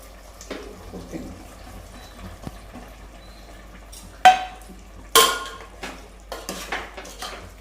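Ingredients for a jowar methi kadubu go into a pot of boiling water on a kitchen stove, heard as clinks and knocks of utensils against the pot, with a few sharp louder clatters over a faint bubbling background and no talking.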